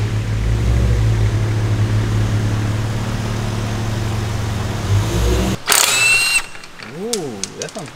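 A tuned BMW car engine with a new motor runs loud and steady with a deep rumble, then cuts off abruptly, followed by clicks and a rising and falling tone.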